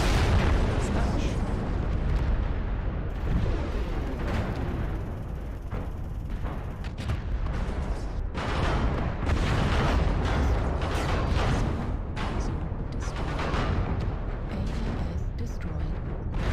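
Missile explosions in the mech combat game MechWarrior Online, a dense, continuous barrage of booms and bursts rumbling loudly throughout, with a synthetic warning voice and damage alerts mixed in.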